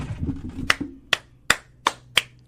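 Five sharp, evenly spaced hand claps ring out loud and close after a low murmur of movement, each a crisp isolated crack.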